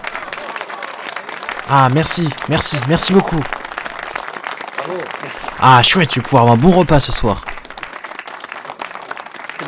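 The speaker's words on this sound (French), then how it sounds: "Ah super, ils applaudissent." An audience claps after a performance of French Revolution songs, with bursts of applause rising under someone speaking loudly over it.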